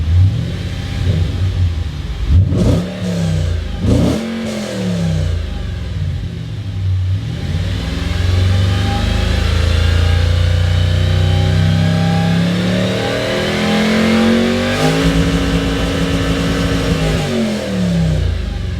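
An Audi RS4 engine revs hard and bounces against its 6,800 rpm rev limiter, with repeated loud surges and drops before a long, sustained high-rpm roar, heard close with no talking.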